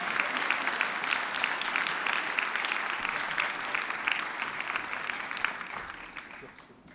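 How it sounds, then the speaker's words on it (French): An audience at a Cassel Harmony quiz game event gives strong applause, dense clapping holding steady for several seconds before tapering off near the end. "On peut les applaudir bien fort."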